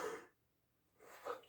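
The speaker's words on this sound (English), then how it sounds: "Excuse me, I had to sneeze." A single short sneeze, close and fairly faint, with a soft burst at the start and another at the end separated by a brief quiet gap.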